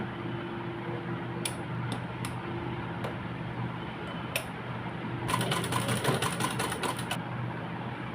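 Sewing machine stitching a folded nineteen-inch fabric strip, a few short clicks and then a rapid burst of close mechanical stitching over a low hum.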